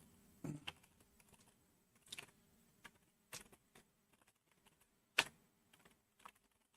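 Scattered keyboard keystrokes tap quietly at an irregular pace while words are typed into a typing video game, with short bursts and pauses between presses and no talk.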